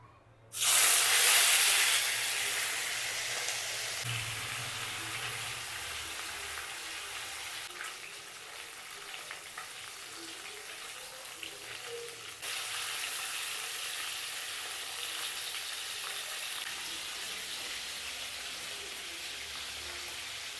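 Fish pieces fry in hot oil in a home kitchen, a steady soft sizzle and hiss that flares loudly as the pieces go in, then settles into a constant crackle, with no talking.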